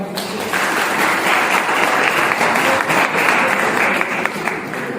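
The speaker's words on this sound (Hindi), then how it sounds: "तालियां मारो भाई।" An audience at a motivational business talk bursts into loud, sustained applause, a thick wash of clapping that holds steady for several seconds.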